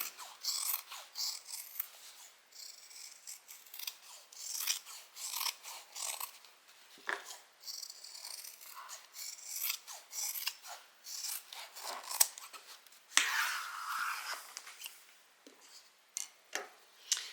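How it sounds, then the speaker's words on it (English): Scissors trim back the seam allowance on a fabric sewing project, with repeated close, crisp snips and rustling fabric in irregular bursts and no speech. "I'm going to cut the seam allowance back, but not at the top."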